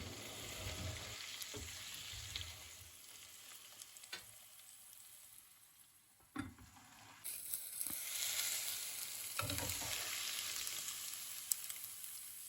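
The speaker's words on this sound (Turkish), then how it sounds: "şöyle ara ara fazla sebzelerimizi dağıttırmadan karıştırıyoruz" Brussels sprouts and other vegetables cook in their own juice in a pan, a quiet steady sizzle with occasional spoon scrapes and clicks as they are gently stirred.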